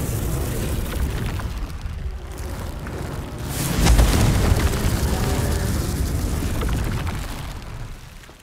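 In Hogwarts Legacy, a Confringo fire spell is cast and bursts into a swelling, roaring blast that builds and peaks near the middle. Crackling debris noise follows, then fades toward the end.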